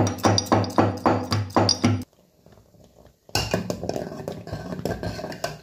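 Sharp, rapid metallic pounding and clinking of spices being crushed into powder while making rice payasam, stops briefly for a quiet moment, then resumes with busier clattering.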